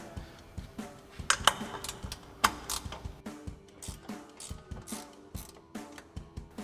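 A ratchet loosens a nut on the front suspension of a Ford F-150 during a Bilstein leveling kit install, producing quick, close, rhythmic clicking strokes in short bursts with small pauses between them.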